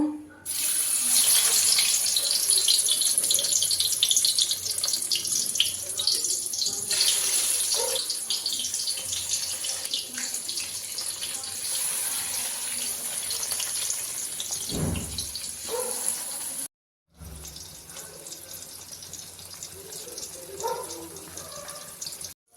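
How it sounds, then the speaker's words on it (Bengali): Fish roe patties fry in hot oil with a constant loud, hissing sizzle that carries on for about twenty seconds, with occasional small clatters and one brief break near the end. "তো আমার তেল গরম হয়ে গেছে, তো আমি এগুলি একটা একটা করে দিয়ে দেব।"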